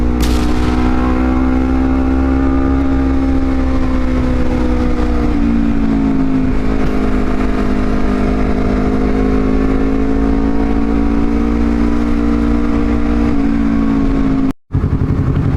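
A Honda CBR250RR motorcycle engine holds a loud, steady high-pitched rev close by, its tone rising and dipping slightly over about fifteen seconds before cutting off abruptly near the end.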